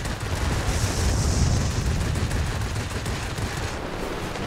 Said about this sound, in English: We're under AA fire, but none of it's actually hitting us.